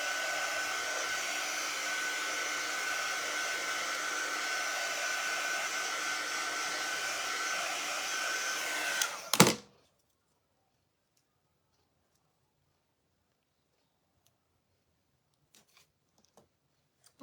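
A dryer blows steadily to dry paint on a model truck, a constant close hiss and whir for about nine seconds, then a click as it shuts off, leaving near silence with faint ticks.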